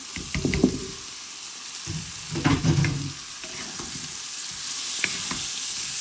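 Leafy greens (shak) frying in a pan as they are stirred, with bursts of scraping and sizzling that swell and fade, loudest near the start and again midway, over a steady background hiss.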